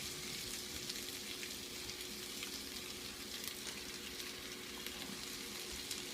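Vegetables frying on high heat in a pan for fried rice with leftover rice and egg, a steady, dense sizzle that holds constant throughout, no voices.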